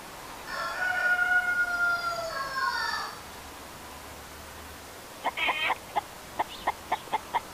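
A rooster crows loudly for a few seconds, then a hen gives a series of short, rhythmic clucks, with quiet outdoor village garden ambience between.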